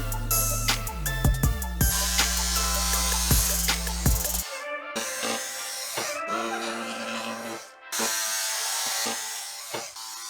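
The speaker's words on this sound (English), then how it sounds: "the first thing I'm going to do is cut me out my fiberglass" A power tool cuts through old fiberglass on a boat during restoration, a loud steady motorized whine with ratcheting rhythm that stops abruptly, followed by lighter clicking and mechanical handling noise.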